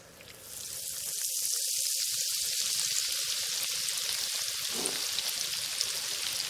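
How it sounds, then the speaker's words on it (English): Hush puppies dropped into hot grease at around 325 to 350 degrees sizzle and crackle in a steady, bright hiss that swells within the first second and holds, moderately close and without talk. "We're about to drop our hush puppies in there. Same concept, get that grease."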